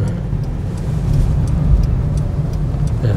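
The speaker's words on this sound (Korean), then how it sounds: "기어 넣고 출발, 엑셀 밟아주고 붕" A car pulling away from a stop as the accelerator is pressed during a driving lesson, a steady low engine rumble and road noise rising slightly in the middle, close and continuous with no talk.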